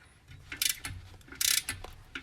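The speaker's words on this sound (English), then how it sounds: "Torquing the last bolt here" Torque wrench clicking and ratcheting on fresh clutch bolts of a turbocharged BMW E46, a few sharp close metallic bursts separated by softer handling noise.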